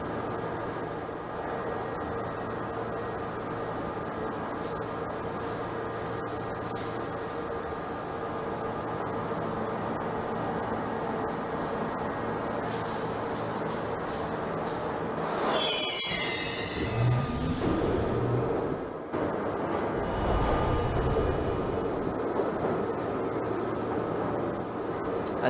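A simulated J subway train on an elevated New York line in a train simulator game rumbles steadily with a droning motor hum, then wheels squeal and screech through curves before heavier clattering near the end.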